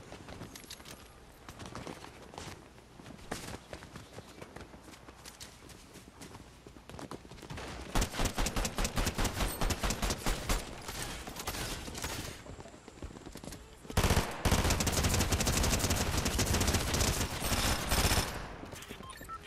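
Gunfire from the Fortnite video game sounds as rapid automatic bursts and scattered shots over continuous game noise, growing denser and louder in the second half, with no talking.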